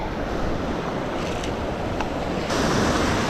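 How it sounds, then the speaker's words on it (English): Ocean waves and incoming tide washing over the shore at Honeymoon Island beach, a continuous loud surf wash with wind buffeting the microphone and no voices. "the water's starting to build up. So as the tide comes in, it pushes over the high spot on the dune"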